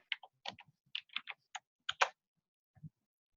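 Fingers tap out a short numeric code on a computer keyboard in a quiet room, with about a dozen crisp, close keystrokes grouped into a few quick bursts and a final isolated tap.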